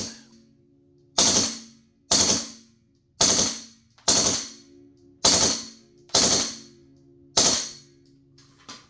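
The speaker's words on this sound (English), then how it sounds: "In full auto and filled to 24 grams, we get 5 to 6 mags off a fill." A GHK V3 AK-105 propane gas airsoft rifle fires seven sharp, evenly spaced shots, close and loud, each with a short ringing decay against a faint background hum.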